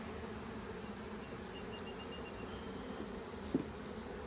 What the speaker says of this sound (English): Pretty docile bees.